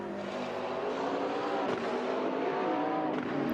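A Lamborghini race car in a sim racing game drones steadily at high revs, a continuous engine whine with a brief shift blip midway, fairly quiet and alone.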